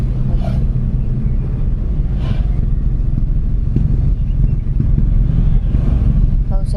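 Motorcycles and other traffic rumble past in a steady, loud stream of engine noise on a crowded road, with a few horn-like bursts and faint voices.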